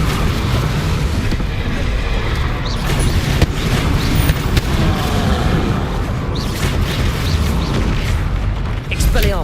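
A Bombarda spell explodes during Hogwarts Legacy spell combat, part of a loud, continuous barrage of booming, rumbling blasts and crackling effects, with voices faintly present under the din.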